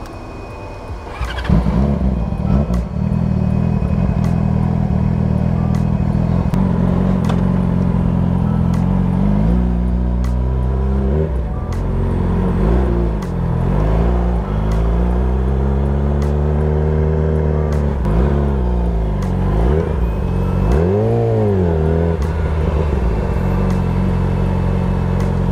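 A car engine idling with a choppy, lumpy rhythm, loud and continuous throughout, with pitch swells as it is blipped and revved at intervals; no talk over it.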